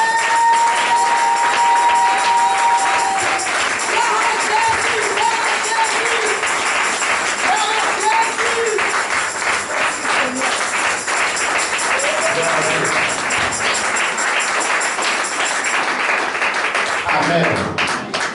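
Church congregation applauding and cheering, a dense sustained wash of clapping and crowd noise with music or sustained tones underneath, steady and loud throughout.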